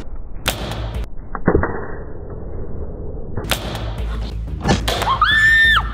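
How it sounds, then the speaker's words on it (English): Toy foam blasters fire in a play battle, giving sharp, close snaps and thumps in scattered bursts, with rustling movement between shots and a brief high whistling squeal near the end. "He's shooting at Chad"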